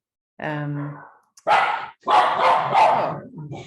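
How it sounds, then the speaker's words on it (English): Several household dogs barking in a home, a sustained harmonic bark followed by bursts of loud, overlapping barking close to the listener. "We said the dogs might bark, and bark they are."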